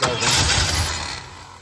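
A Holden HJ wagon engine, sitting for eight years, cranks with the choke pulled in one short, loud, close burst.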